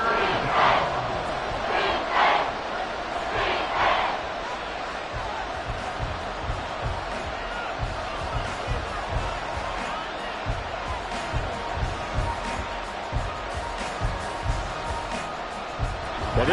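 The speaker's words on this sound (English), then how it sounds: "this crowd into it now" A football crowd roars steadily in a packed stadium, a continuous loud wash of voices with a few louder yelling swells early on and rhythmic clapping or stomping pulses later, a commentator's voice faintly underneath.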